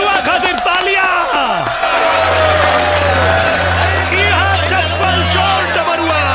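An audience applauds and cheers loudly at a Bhojpuri comedy performance, a dense, steady clapping crowd with whoops layered over a low music bed, with voices in the mix.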